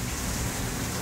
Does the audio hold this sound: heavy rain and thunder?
yes